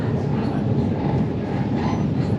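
A London Underground Metropolitan line train sits at a platform, its loud, steady mechanical rumble filling the space with a constant hum and faint wheel squeal.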